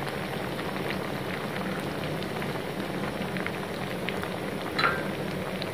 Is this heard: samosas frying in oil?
yes